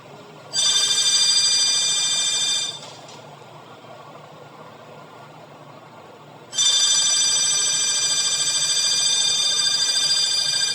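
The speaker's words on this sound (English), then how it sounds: "And the phone just rang. It never rings." A telephone rings indoors in two long, loud electronic trill bursts about two seconds and four seconds long, separated by a quiet pause, with low room hum underneath and no talking.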